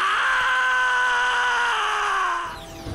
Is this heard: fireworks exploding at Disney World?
no